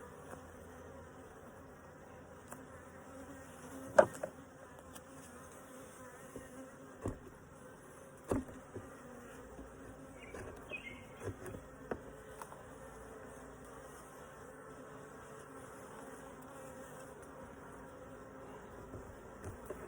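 Honeybees buzzing steadily during an inspection of a split beehive, a soft continuous hum with scattered louder passes of bees flying close, plus a few knocks.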